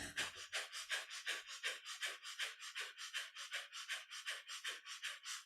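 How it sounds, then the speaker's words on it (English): Rapid, rhythmic breath-of-fire panting breaths during kundalini yoga, about four per second, forceful and close, continuing without pause. "hold this posture with a breath of fire. So with our panting breath"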